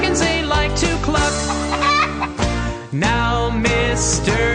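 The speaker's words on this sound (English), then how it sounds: "the chickens they like to cluck" Farm chickens clucking in a children's farm-animals song, short clucks and squawks layered over loud musical accompaniment, close and prominent.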